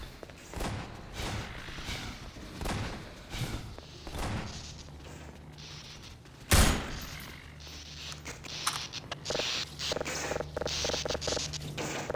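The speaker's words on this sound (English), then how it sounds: "Where's the shooting coming from?" Gunfire rattles in the Half-Life 2 RTX video game, scattered bursts of shots with one sharp loud crack midway amid scraping and movement noise, no talk.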